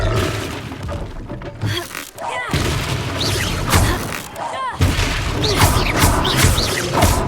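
A Confringo spell explodes in the Hogwarts Legacy video game, giving loud blasts and crashing bursts over dense combat noise, with brief voice calls mixed in.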